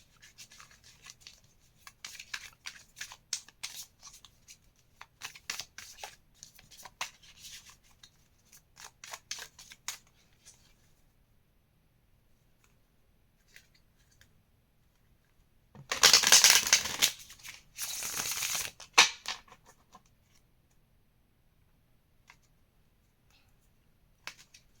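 Thoth tarot cards shuffled by hand during a reading, sounding as soft scattered riffling taps with a louder, denser burst of card shuffling near the middle, close and fairly quiet with no talk.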